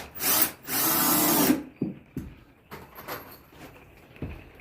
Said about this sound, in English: I'm just using 2-inch wood screws.